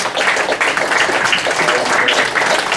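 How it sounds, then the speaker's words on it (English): An audience applauds a panel at the close of a meeting, producing loud, continuous clapping from many hands with no pause across the few seconds. "I'd like first to thank our nice panel, and perhaps give them a round of applause."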